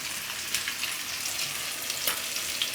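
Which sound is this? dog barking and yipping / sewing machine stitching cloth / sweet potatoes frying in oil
sweet potatoes frying in oil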